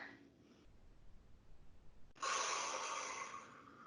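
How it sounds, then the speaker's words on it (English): Forceful exhale through the mouth during a Tabata workout exercise, a soft breath early on followed by a loud, sustained rushing breath out in the second half, close and without talk. "On the way up, breathe it all out."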